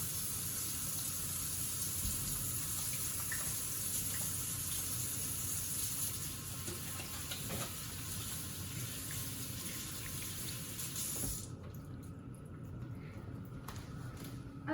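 Water running steadily from a kitchen tap into a sink during handwashing, a constant hiss that drops off sharply near the end, leaving a quieter trickle.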